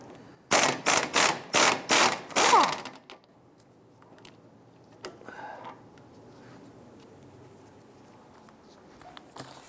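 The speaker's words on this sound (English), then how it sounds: "Let's go ahead and remove the lower bolt for our strut here." A socket wrench works the lower strut bolt, an 18mm head held by a 21mm deep socket, on a 2005-2010 Chrysler 300 front shock: six quick loud bursts of rapid ratcheting clicks, then faint knocks and handling noises.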